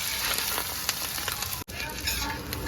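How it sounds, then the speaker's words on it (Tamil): Fish roe fries in a pan with a dense, close sizzle and crackle, broken by a brief drop partway through, and no talk over it. "இதை வந்து நம்ம பொரிச்சு வச்சுக்கலாம்"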